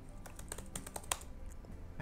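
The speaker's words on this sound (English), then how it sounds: "I've been typing out this book" Typing on a computer keyboard while transcribing a novel: a steady run of crisp, irregular key clicks at close range, with no one speaking.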